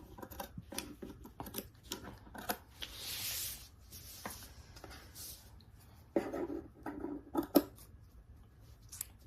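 Scissors snipping fabric close to a sewn seam thread, a quiet close series of crisp, irregular snips with soft rustling of cloth between cuts.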